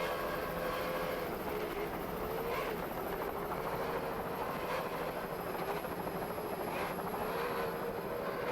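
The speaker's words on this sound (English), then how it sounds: "Just listen to those engines." Racing powerboat engines from Hydrotech and Yamaha roar at a steady, loud, unbroken pitch, with an engine whine running through the whole stretch and no voices over it.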